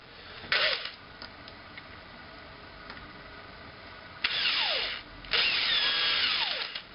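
A handheld power drill bores at an angle, short whirring bursts spinning up and down, with two longer high-pitched runs near the end, close and alone.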